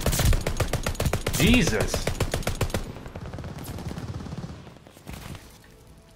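Rapid bursts from the KG M40 rifle in Call of Duty Vanguard/Warzone crack out in a dense, loud rhythm, then fade to sparser distant shots, with a brief exclaimed voice over the firing.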